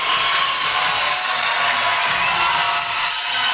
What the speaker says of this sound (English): And the crowd is going ballistic